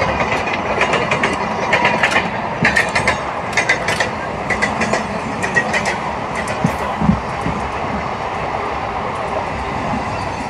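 A passenger train pulling into Son Nagar Junction in Bihar gives off a steady rolling rumble, with rhythmic clicks and clacks of wheels over rail joints and brief metallic rattles, heard close up from on board with no talk.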